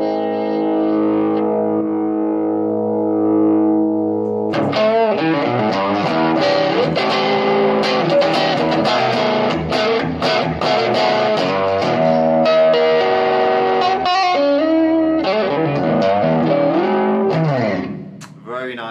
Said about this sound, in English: Very nice overdrive there